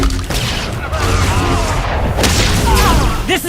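Missile explosions boom and rumble in Star Wars: The Old Republic, loud dense blasts with crashing debris filling the whole moment, a voice briefly audible beneath.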